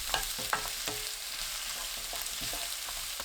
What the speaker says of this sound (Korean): 지글지글 소리 나면 양파 넣고 중약불로 2분 볶아주세요